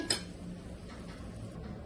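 Tomato curry with flat bean seeds being scooped from a metal pan into a bowl: one sharp clink of a spoon against the vessel, then soft scraping and light rattling.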